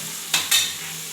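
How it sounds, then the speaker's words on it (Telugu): Tomatoes frying in a pan with chilli powder and a little salt, stirred briefly: two quick scraping strokes over a soft steady sizzle, close up. "ఇలా కొద్దిసేపు గిలకాలి"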